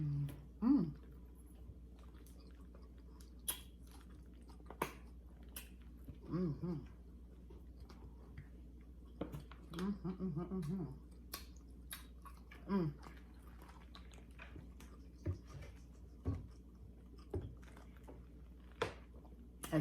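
Chili cheese corn dogs, Foster Farms honey-battered, get bitten and chewed up close: soft crunches and wet chewing come in short bursts separated by quiet pauses, with faint talk around them.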